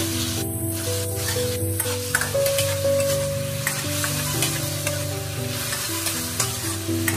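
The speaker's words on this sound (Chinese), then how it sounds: "油热后倒入西红柿， 用中火给它炒一下，将西红柿炒软，炒出汁水。" Tomatoes stir-fry in hot oil over medium heat, a constant sizzle broken by scraping stir strokes and a few bright spits, close up with no talk.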